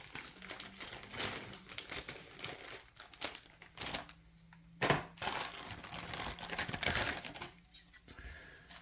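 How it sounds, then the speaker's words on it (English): A model car kit body is pulled out of its plastic bag, giving close, faint crinkling and rustling in irregular bursts, with a few sharper snaps. "let's go ahead and take this one out of the plastic"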